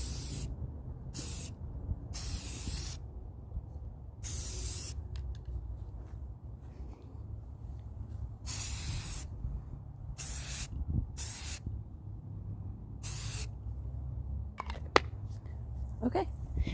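Old Moterm rings spray painted matte black outdoors, with repeated short bursts of aerosol hiss, each a second or so long, separated by pauses, close and clear over low background rumble, plus a few faint knocks.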